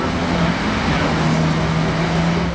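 Road traffic with a Porsche among the cars passing by, a loud, steady roar of engines and tyres close by with a low engine drone running underneath.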